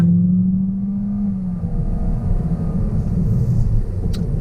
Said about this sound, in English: Now, we are gonna get a little acceleration here with the Corolla.